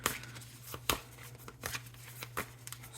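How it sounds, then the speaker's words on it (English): Tarot cards being shuffled close up, a series of soft riffling bursts and slaps in an irregular rhythm, with a faint hum underneath. "So let's get another good shuffle in there."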